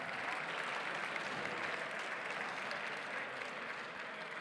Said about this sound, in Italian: Oh, questo è un applauso giusto.